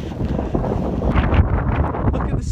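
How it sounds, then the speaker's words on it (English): Gusty wind at a beach buffets the microphone with a rough, rumbling roar, steady and close with small surges. "It's windy."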